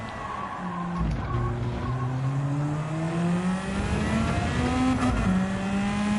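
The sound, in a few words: race car engine accelerating in video game Gran Turismo 7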